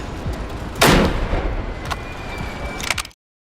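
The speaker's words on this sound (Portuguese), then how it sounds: "O assassino entra em um dos brinquedos e atira o alvo de longe, antes de recuar." A single rifle gunshot rings out in a Puppet Combo horror video game set at a carnival, a loud broadband crack followed by a short decaying tail, with fainter sharp clicks and a thin tone afterward.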